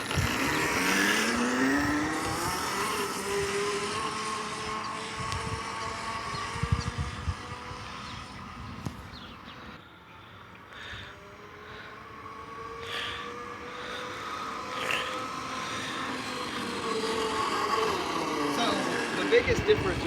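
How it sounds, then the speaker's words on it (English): A Monster Moto e1000 1000-watt electric dirt bike ridden by an adult gives a whining motor tone that rises and falls in pitch as it speeds up, passes and returns, with a voice speaking over it. "watch what a 200-pound adult can do on the Monster Moto e1000"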